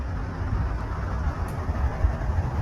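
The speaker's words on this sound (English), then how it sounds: "what you're hearing, that's the sound of ice moving on the Gallatin River west of Four Corners" Low, steady rumbling and grinding of river ice moving on the Gallatin River in Montana, with no distinct cracks; a dense continuous wash of low noise from start to end.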